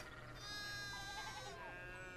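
A sheep bleats in the medieval video game Pentiment, a wavering, nasal call heard over a soft pastoral music bed with sustained tones.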